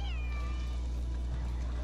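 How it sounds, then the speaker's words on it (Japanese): A cat in the Monster Hunter World video game meows once, a drawn-out, slightly falling cry that stands out loud and close over a steady low game hum. "あ、猫さん来た。"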